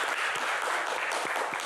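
A studio audience applauds the singer with dense, steady clapping from many hands throughout, fairly loud and sustained.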